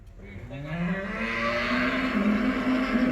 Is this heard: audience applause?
no